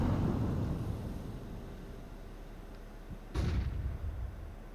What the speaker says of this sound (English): And wow, an explosion up mid from YCreate.